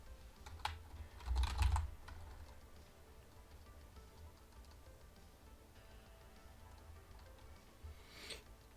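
Faint keystrokes clatter on a computer keyboard at a desk, with a short burst of clicks early on and scattered taps later against quiet background noise.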